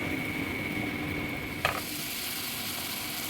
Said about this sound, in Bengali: মটরশুঁটিগুলো দিয়ে দিলাম দিয়ে একটু কষিয়ে নিচ্ছি